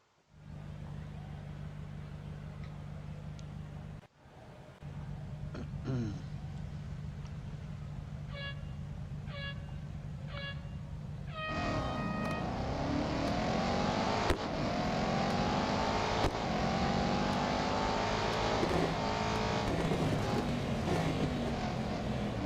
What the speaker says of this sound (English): This time it's the Aston Martin Vantage AMR Pro.